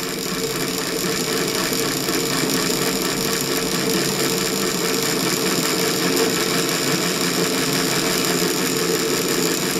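A cider apple scratter mill runs on a chain drive, a continuous loud mechanical whir and rattle with steady fast rhythmic clatter, close and unbroken for the whole stretch, no voices.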